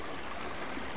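Wepre Brook flows near a waterfall in a park, a steady soft rushing of water, faint and unbroken for a brief moment.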